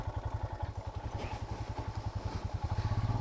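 Motorcycle engine running with a steady, rapid low-pitched pulsing throb, close and fairly loud throughout, on a rural route toward the Ramnami community; no talk.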